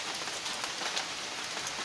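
Morning rain falls in a steady, even hiss at moderate loudness, with no other sounds over it.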